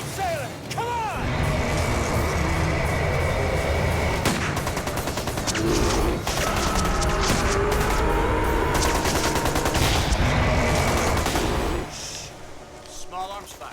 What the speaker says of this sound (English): Small arms fire. It's close.